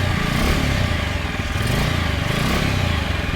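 A TVS Apache 4V motorcycle engine running steadily after being started, a loud, continuous rough idle with clattering mechanical noise, close by and without talking; the bike has a battery charging problem.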